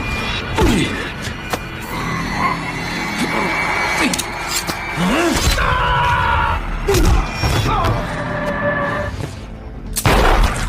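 Gunshots ring out in a film scene about a brutal robbery boss's revenge: sharp, loud bangs and thuds scattered over about ten seconds, mixed with impacts and a busy action soundtrack.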